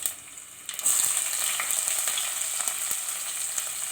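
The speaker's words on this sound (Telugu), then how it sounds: "తాలింపు గింజలు, ఎండుమిర్చి, చిన్నుల్లిపాయలు వేసానండి" Tempering seeds, dried red chilies and shallots fry in hot oil for an okra curry, a close, loud sizzle that jumps up sharply and crackles steadily after they hit the pan.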